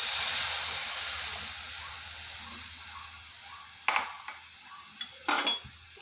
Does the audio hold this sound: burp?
no